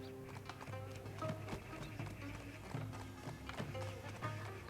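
Horse hooves clip-clop steadily in Black Desert Online, a fairly loud, continuous trotting rhythm beneath game music and ambience.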